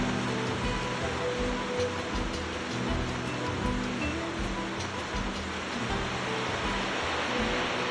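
Virgin waterfall in a bamboo forest in the remote Motoco Valley of Patagonia, heard as a steady, loud, broadband rush of falling water that continues unbroken throughout with no talking.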